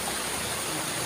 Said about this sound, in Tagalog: Ilog po yan mga kababayan.